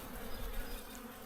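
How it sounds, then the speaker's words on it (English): Honey bees around an opened double-deep hive give a faint, continuous buzzing hum, low and even, with no voices. "the bees love the camera"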